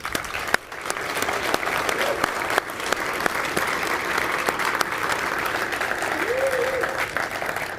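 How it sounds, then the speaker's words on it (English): A crowd at a city State of the City address applauds steadily, a dense wash of clapping from many hands that holds at an even level throughout. "please give all of them a round of applause"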